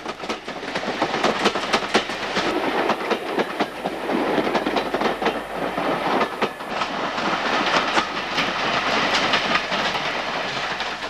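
Steam locomotive 6007 in early 1950s blue livery hauling a train at Kinchley Lane, a loud continuous rumble with rhythmic clickety-clack of wagons passing close by throughout.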